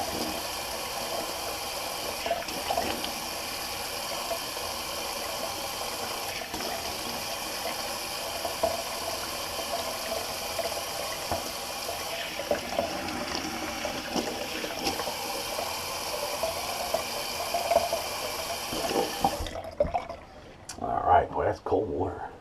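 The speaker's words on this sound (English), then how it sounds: "let me just do a quick cold water rinse" Steady running cold water from a tap, a rinse during a shave, fills the background for about twenty seconds, then cuts off, followed by a few scattered splashes and clatters.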